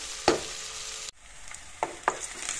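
Half-cut onions with garlic frying in a pressure cooker pan, a close sizzle broken by scraping stirs of a spoon, a brief dip, then more stirring strokes, no voices.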